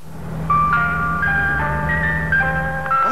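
An ice cream truck plays its tinkling chime melody, a steady run of bright repeated notes over a low engine hum, loud and close with no talk.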